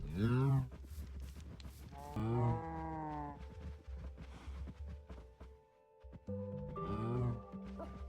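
Several cattle moo in a Minecraft farm game, with a loud low call at the start and more harmonic moos around two and seven seconds, under a steady background drone.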